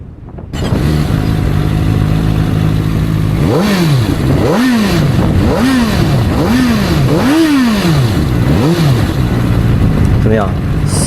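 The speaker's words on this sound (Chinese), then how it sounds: "先点火给大家听个声音吧" A CFmoto 500SR four-cylinder motorcycle starts, settles into a loud, close idle, then is revved in a series of six or so sharp blips, each rising and falling smoothly before dropping back to idle.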